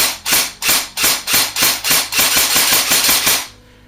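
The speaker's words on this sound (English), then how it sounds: "There are no BBs in the gun, but there is a battery, so this will be dry fire." An airsoft M4 AEG with an APS electric blowback bolt and an 11.1 volt battery dry fires in semi-auto, giving eleven sharp, evenly spaced mechanical clacks close up over about three and a half seconds, with no talk.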